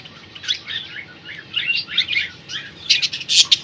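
Breeder cockatiel pairs with chicks chirping in a cage, a run of bright, quick tweets and calls, fairly close and moderately loud, growing busier toward the end.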